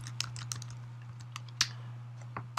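Clicky keystrokes on a computer keyboard tap out in short irregular bursts, close and fairly faint, with one louder key press, over a steady low electrical hum.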